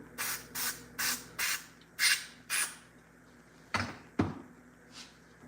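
Short bursts of aerosol lubricant sprayed onto RC car parts during winter maintenance, six quick hisses in a row followed by two sharper, clicky sprays, close and fairly quiet with no talk.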